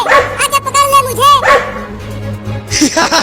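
Cartoon dogs bark and yip in several close, excited bursts, mixed with animated character voices talking and whining over them.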